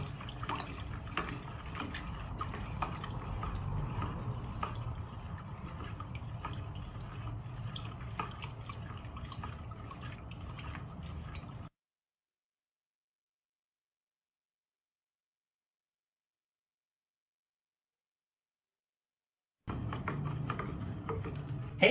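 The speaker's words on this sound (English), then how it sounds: "Give it a stir." Homemade shine paste of lard and lemon being stirred, a continuous soft wet scraping and dripping texture that runs steadily, drops out into silence for several seconds, then resumes briefly.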